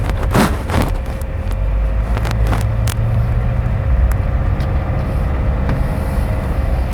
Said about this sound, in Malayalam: ആ ഒരു ഡീസൽ എഞ്ചിൻ്റെ ആ ഒരു സൗണ്ട് ചെറുതായിട്ട് കേൾക്കാം വണ്ടിയുടെ അകത്തേക്ക്